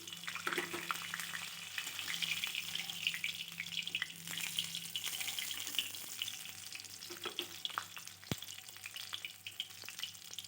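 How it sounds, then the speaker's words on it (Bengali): Pieces of fish fry in hot oil, a soft sizzling crackle that rises and falls with occasional stirring clinks and a sharp knock near the end. "আমি পরের মাছগুলো সেমভাবে ভেজে নিচ্ছি"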